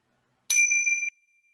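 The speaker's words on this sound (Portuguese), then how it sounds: "E depois do toquezinho do sino, você vai fazer uma reverência para eles" A single small bell chimes once during a guided meditation, a clear, bright strike that rings for a moment and fades into silence.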